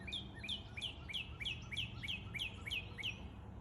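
A cardinal sings a rapid series of about ten identical clear downslurred whistles in steady rhythm, fairly distant over a low outdoor rumble, during a stormy spring evening.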